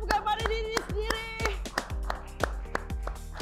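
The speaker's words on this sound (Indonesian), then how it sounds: "Okey, semua berikan tepukan pada diri sendiri." Handful of people clapping for themselves after finishing an exercise session, a sparse, uneven run of about ten sharp claps over music with a faint voice.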